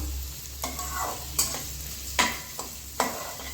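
Sliced onions fry in a pan while being stirred, soft sizzling under several distinct sharp spatula scrapes spaced about a second apart, close but fairly quiet, no talking.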